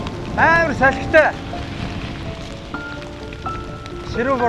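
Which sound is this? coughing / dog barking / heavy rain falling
heavy rain falling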